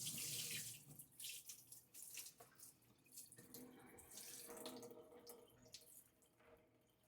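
Water runs from a sensor kitchen faucet into a sink, a steady splashing hiss that shifts in tone and strength as the flow hits dishes, then softens toward the end, with no talking.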